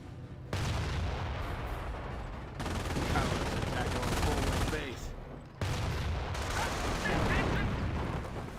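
Sustained gunfire and battle noise in the WWII strategy game Company of Heroes, with Panzer Grenadiers under fire, a dense continuous clatter with a deep low rumble that drops out briefly twice before resuming at steady loudness.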